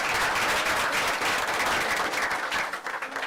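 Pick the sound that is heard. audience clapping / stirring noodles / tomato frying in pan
audience clapping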